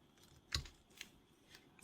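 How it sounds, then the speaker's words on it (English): A knife bites into wood with one sharp, fairly close snick while whittling a small Halloween ghost figure, followed by two fainter, briefer scrapes of the blade cutting a triangular notch in a quiet room. "I'm just going to make a cut and then sort of triangular cut"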